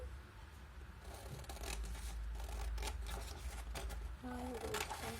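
Scissors cutting paper in half for a paper boat, soft close rasping snips and paper rustle running throughout, with a faint voice briefly heard near the end.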